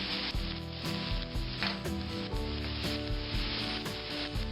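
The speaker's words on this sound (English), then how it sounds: "I start them first just to get the heat working up through them to soften them." Onions softening in a pot for ranch style beans give a steady, close sizzle with bursts of crackle and faint stirring scrapes, no voices.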